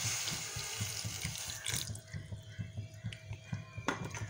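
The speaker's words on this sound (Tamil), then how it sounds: "இனி இதில் கொஞ்சமாக தண்ணி விட்டு" Water poured into a pot holding jaggery lumps for a sweet aval payasam, a splashing trickle with drips that thins and fades into scattered drops, close and alone.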